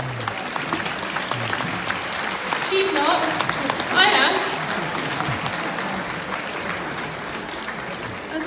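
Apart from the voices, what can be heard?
audience applause at dressage test ride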